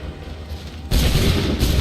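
A musket volley crashes out in the Assassin's Creed III video game, a sudden loud, dense burst of massed gunfire after a quieter battle ambience, followed by a second swell of booming shots.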